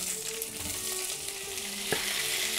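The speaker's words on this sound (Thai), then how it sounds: "ตอนนี้นะคะกระทะน้ำมันของเราร้อนแล้ว เราก็เริ่มเอาผักลงไปเลยค่ะ" Vegetables, starting with onion, hit hot oil in a wok while cooking douchi gravy noodles with fish, giving a steady, close, broadband sizzle that holds throughout with a brief sharper crackle near the end.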